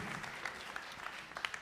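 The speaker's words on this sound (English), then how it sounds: "Give them a round of applause, guys." Brief applause from an audience at a community pitch competition, clapping for the backers, a light scattered patter of hands heard at a distance and fairly faint.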